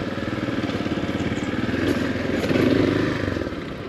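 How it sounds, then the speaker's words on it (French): A motorcycle engine idles and putters close by in a steady pulsing rhythm as the bike is parked along a waterfront street in Antananarivo, Madagascar, with a light clatter near the end. "On va donc garer la moto."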